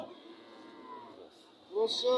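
An 80% Friesian cross cow at a busy rural cattle market in Rowmari lows briefly and nearby, a short drawn-out moo rising over the crowd murmur, with people talking close by.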